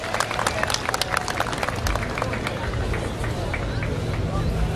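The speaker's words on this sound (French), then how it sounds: "Applaudissez pour tous les Bacham" Crowd applause at an enthronement ceremony for a chief in a Bacham village grouping, a dense spatter of clapping over a murmur of crowd chatter, steady and moderately distant.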